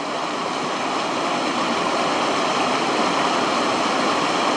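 Water runs down a small, low waterfall beside a lake with a campsite, a loud, constant broadband rush heard up close, with no voices over it.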